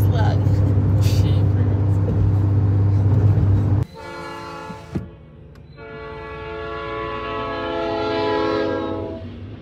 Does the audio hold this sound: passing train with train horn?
yes